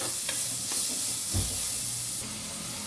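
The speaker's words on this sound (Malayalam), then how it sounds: "നല്ലപോലെ ഒന്ന് ഇളക്കി കൊടുക്കുക." Onions and curry leaves sizzle and hiss steadily in a pan for a drumstick stir-fry, with a few soft scrapes of stirring and a brief clatter midway; close and fairly quiet, with no talking.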